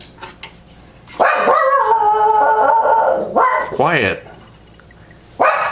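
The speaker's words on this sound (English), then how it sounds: "My little dog barking." A small dog barks and howls in a series of loud, close yips and drawn-out howls indoors, with someone briefly speaking nearby.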